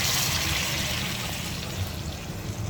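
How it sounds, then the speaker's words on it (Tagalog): Hot water poured into a pot of Kapampangan corn soup with sautéed corn, a steady close splashing pour with broad rushing noise lasting throughout. "Lagyan na po natin ating tubig na mainit."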